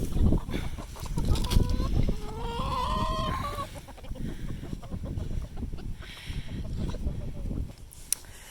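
Backyard chickens cluck and squawk close by, a burst of rising, sing-song calls early on followed by scattered softer clucks, with rustling and handling noises around them.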